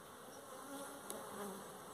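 Honeybees buzz around honey frames during pre-harvest hive work, a faint steady drone with a few individual bees passing close and fading.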